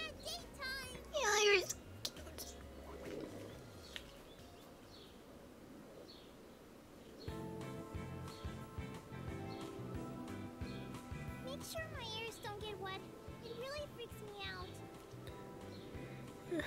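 A cartoon cat meows in the dating puzzle game HuniePop: a short meow early on, then several more later over light background music.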